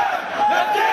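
Crowd of protesters chanting at a funeral procession in Manama, Bahrain, a dense mass of raised voices merging into a loud, continuous roar that swells slightly midway through a short burst.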